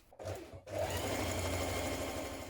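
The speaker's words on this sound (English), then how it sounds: "Now stair stitch around the top of the trousers" A sewing machine runs steadily as stay stitching goes around the top of a pair of trousers, with a short start, a brief pause, then a continuous close, loud whirring run.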